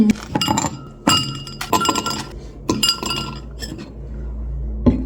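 Ice cubes clink against a glass while iced tea is being made, several bright rattling bursts of clattering ice close up, separated by short pauses.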